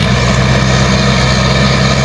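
A Yanmar harvester engine runs loud and close, a dense, steady mechanical drone with no letup.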